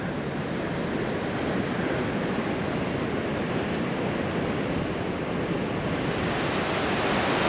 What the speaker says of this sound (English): It's getting pummeled by the big waves coming out of the north.